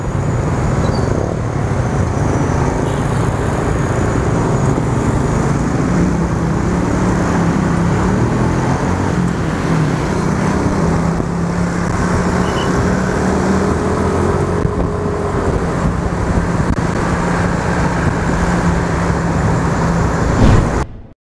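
A Yamaha Lexi LX 155 standard scooter, a 2024 model, rides through congested traffic, its steady engine drone and wind rush continuous and close throughout, blended with surrounding road noise.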